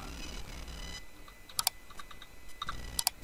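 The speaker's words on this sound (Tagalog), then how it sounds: "So i-type na lang natin dito." Keys tapped on a computer keyboard while entering a code, a few quiet clicks early on and two sharper clustered bursts of keystrokes later, close and alone with no talking.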